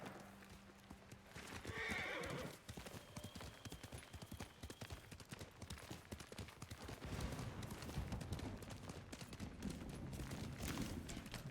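Horse hooves clip-clopping at a gallop through sustained game ambience in Ghost of Tsushima, with a whinny near the start; a steady rhythmic drumming of hooves fills the rest, loud and close.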